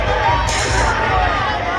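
Dense crowd of party workers packed together at an election victory procession for a newly elected MLA, a steady loud outdoor murmur of many voices with a busy roar and bursts of chatter throughout.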